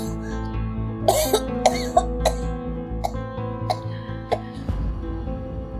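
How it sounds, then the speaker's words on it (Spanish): Repeated coughing from a woman during a medical check, a series of sharp close coughs spaced about every half second over a few seconds, with a low steady hum behind and no talk. "Tose."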